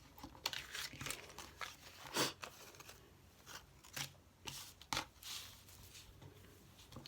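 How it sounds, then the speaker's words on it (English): Scissors cut through lace in a string of soft, close snips mixed with crinkly rustling as the fabric is handled, fairly quiet, with no talking. "I'm going to cut some of this lace."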